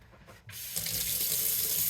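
Tap water runs into a sink to rinse freshly picked garden parsley. A brief lull is followed by a steady, close stream of splashing water that continues to the end.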